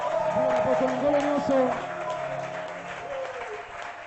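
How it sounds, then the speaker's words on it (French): Church congregation applauding during a service, clapping under a voice that calls out over it, louder at first and then fading. "Applaudissez très fort."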